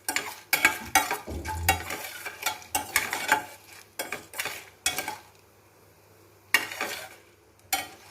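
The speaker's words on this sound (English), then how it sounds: "add the red chilies to get a nice oil coat" Dried red chilies are dropped into hot oil for rasam with the gas turned off, giving a series of short sizzling bursts mixed with clinks of a utensil against the pan, then a quieter stretch before a couple more bursts.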